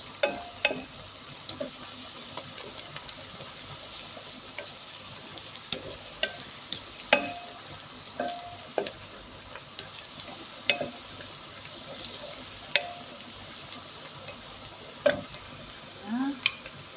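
Onions frying in oil in a pot during rice preparation, a low steady sizzle broken by scattered stirring clicks and scrapes, fairly quiet and without talk.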